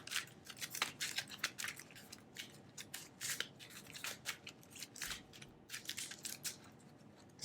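A deck of cards for the Legendary Marvel deck-building game is shuffled by hand, giving a string of quick, crisp riffling bursts that come in uneven clusters, close and fairly quiet, with no talking.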